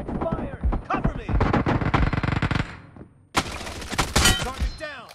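Close, loud automatic gunfire from PUBG Mobile fills the first stretch, then a short gap gives way to more shots with impact noises and shouted voices over the fire.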